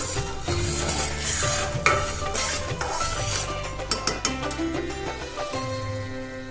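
Sugar syrup for coconut barfi is stirred in a pan, a close, steady scraping and swishing of a spoon with a soft bubbling sizzle and a few light knocks against the pan.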